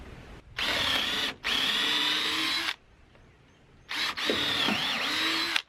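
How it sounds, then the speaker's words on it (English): A power drill bores straight through a wooden porch rail board for a 1/4-inch bolt, running in three loud, close bursts with brief pauses between them. "I'm just going to drill straight through the middle."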